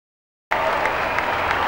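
A large crowd of about 2,400 people breaks into sudden, dense applause that holds steady and loud after a silent start.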